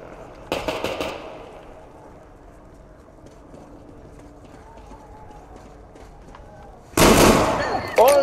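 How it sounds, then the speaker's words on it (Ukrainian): Grenade explosions in the Metro Exodus game, two sharp loud blasts, one early and one near the end, with a rumbling tail and quiet ambience between them. "На тобі гранату, сука!"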